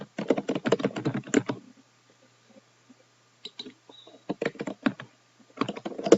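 Quick bursts of clicking keystrokes on a computer keyboard come close and fairly quiet, with a long pause between bursts of typing while text is entered into an online form.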